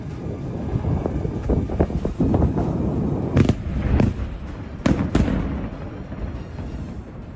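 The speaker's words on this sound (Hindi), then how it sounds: "काफी देर तक धमाके की आवाज आती रही, एक के बाद एक विस्फोट होते रहे।" A series of explosions after drone and bomb attacks: several sharp, distant bangs rise out of a continuous low, wind-like rumble that carries on throughout.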